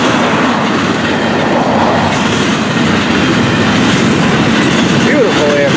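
A Florida East Coast Railway merchandise freight train rolls past at close range in Miami, a loud continuous rumble with clickety-clack wheel noise and faint squeals, sustained throughout.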